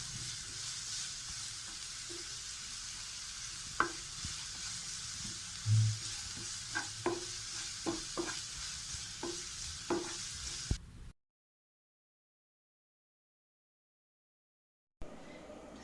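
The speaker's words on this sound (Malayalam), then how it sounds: "സവാള കൊത്തി അരിഞ്ഞത്, ഒന്ന് വഴന്ന് വരട്ടെ." Chopped onions sautéing in a pan for dal fry, a soft continuous sizzle with scattered utensil taps and stirring knocks, cut off by a few seconds of silence before the sizzle returns briefly.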